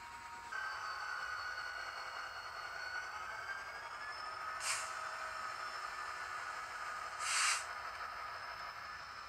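A Revolution Trains Class 59 model diesel locomotive runs smoothly along freshly cleaned track, producing a faint, steady electric-motor whine broken by two short hissing bursts.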